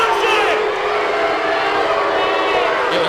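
An arena crowd in the boxing video game New Line Championship Boxing 3 roars in loud, sustained, agitated shouting and jeering at the fighters near the ropes, with talk blended into the din.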